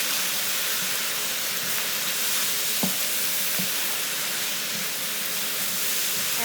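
Char kuay teow noodles stir-fried in sweet soy sauce, a loud steady sizzle throughout with a few clinks of a spatula against the wok, close up and uninterrupted.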